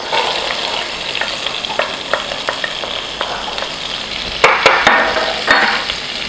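Carrots hit melted butter in a pan, a close sizzling fry with light stirring and a few sharp clinks of a utensil against the pan, no talking.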